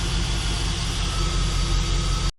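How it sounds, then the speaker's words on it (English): A 4th Gen Chevrolet Camaro SS idles steadily with a fitted Volant intake, giving a loud, close, even rumble with a constant low hum that cuts off abruptly at the end and has no talking over it. "So I let it just kind of idle for a minute, try to figure itself out."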